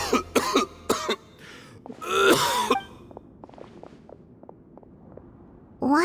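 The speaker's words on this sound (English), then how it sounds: "Why is he coughing so much?" A male character in Genshin Impact coughs several times in short harsh bursts, followed by a strained throat-clearing groan, then quiet room ambience with faint footsteps and a voice starting at the end.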